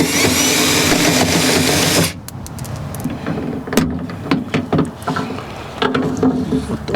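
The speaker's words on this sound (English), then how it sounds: "The actuator is held on with this rivet here. Pop the center out of it." Center pin of a rivet on a Ford Crown Victoria door lock actuator being popped out inside the door: a steady mechanical whir gives way to sharp clicks and snaps close by, with no talk.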